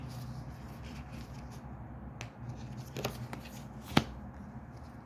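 A deck of playing cards is shuffled by hand close up, soft riffling and shuffling rustles with a couple of sharper taps and card snaps near the end, no talking.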